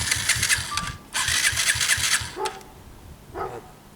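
A 50cc motorcycle engine sputters and turns over in short rhythmic bursts, then gives a couple of brief revving attempts, close and moderately loud.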